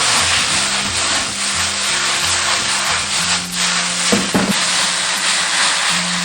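Water spinach and minced garlic stir-fried in hot oil in a wok over high heat, a steady loud sizzle with scraping and tossing, and a couple of sharper clanks near the end, no talking.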